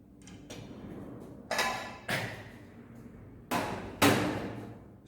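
A knife chops through a carrot on a cutting board as it is squared into a batten, giving five sharp, separate thuds at irregular intervals, close and clear, with soft handling noise between the cuts.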